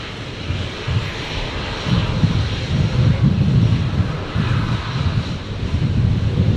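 A fixed-wing airliner takes off at Brisbane airport, using the full runway; a loud, sustained engine roar with low rumbling surges and some wind buffeting fills the whole stretch.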